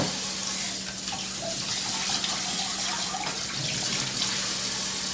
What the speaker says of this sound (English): You want to pull the screen out, let it rinse, pull out the sugar.